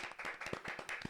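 A small church audience claps for Pastor Abner, a brief burst of quick, uneven hand claps at close range, fairly quiet and with no voices over it.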